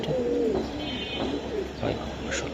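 Silver Giribaz pigeons coo close by in soft, low, repeated throaty calls, several overlapping in a gentle rolling rhythm against a faint room background.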